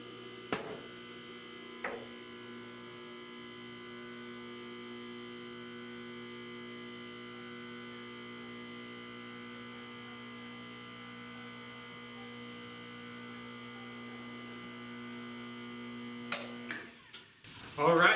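An MD-6XP lift raises to its first locking position with a steady electric motor hum and buzz droning throughout, a couple of soft clunks near the start, and louder knocks and rattles at the end.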